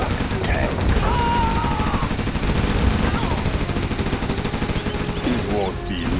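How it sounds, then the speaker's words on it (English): An Overlord tank in Command & Conquer: Generals fires amid a dense, continuous barrage of game gunfire and explosions, loud and close throughout, with faint voices over the battle. "This is the Overlord tank."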